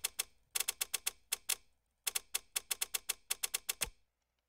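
Rapid tapping clicks while playing Roblox, sharp close clicks in quick bursts with short pauses between groups, ending after about four seconds, no talking.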